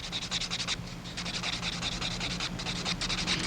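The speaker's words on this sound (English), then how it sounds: "As I work around the finger, I'm laying the file over so as not to push too hard on the cuticle." A nail file rasps across a sculptured fingernail in quick, even back-and-forth strokes, close and steady with brief pauses between bursts.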